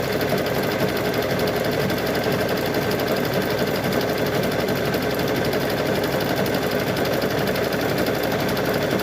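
A sewing machine stitches a colorful cow quilt square, running in one close, continuous, even buzz of fast needle strokes with no pauses and no voices.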